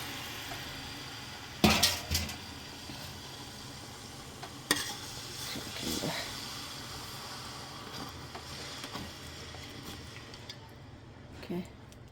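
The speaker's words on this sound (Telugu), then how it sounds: "ఇప్పుడు నేను చింతపండు చారు అయితే పోసుకుంటున్నాను." Tamarind rasam is poured into a cooking pot holding boiled pieces, bringing a few sharp clinks and splashing bursts over steady kitchen background hiss, with faint scraping after.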